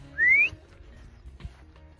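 A person gives a single short rising whistle outdoors to call a dog back, clear and fairly close, followed by faint background rustle.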